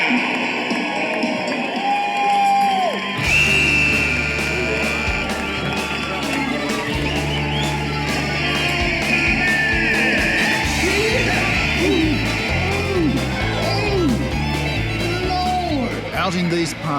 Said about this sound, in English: I want you to stand up and cheer for them